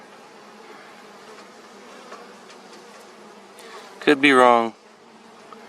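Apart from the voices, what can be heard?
honey bees buzzing at apiary, Carniolan and Russian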